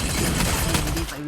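Rapid automatic gunfire from the Free Fire battle royale game on the Bermuda map crackles in a dense, continuous burst, loud and close, with a voice talking over it.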